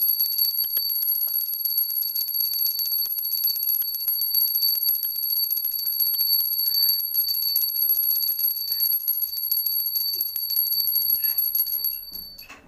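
A small hand bell rings continuously during a Vinayaka Chaturthi aarti, a steady, bright, high-pitched jingle shaken slowly and evenly for several seconds before it stops, with faint household sounds underneath.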